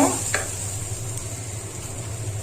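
Chicken cooking in a pan after water is added, a brief burst of sizzling followed by a low steady simmer with a faint background hum.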